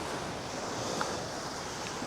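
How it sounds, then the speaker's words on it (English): Ocean waves wash onto a breezy beach in a steady, full roar of surf with wind noise, and nobody speaks. "I'm gonna be quiet for a little bit and just let you listen to the waves."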